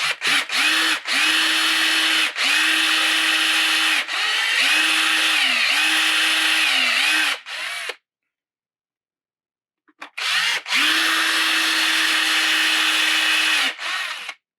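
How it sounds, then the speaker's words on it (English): A power drill with a dull bit bores through hard resin in long, loud whirring runs, its pitch dipping under load, with a short silent pause between the bursts. "Drill bits are getting a little dull. They've drilled through a lot of resin over the past few years."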